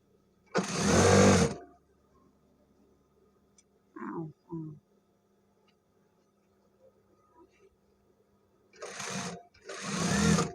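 A sewing machine stitches elastic into trouser waistbands in a garment repair setup, running in three loud bursts: one early, a shorter one midway and two close together at the end, separated by quiet stretches with faint handling noise.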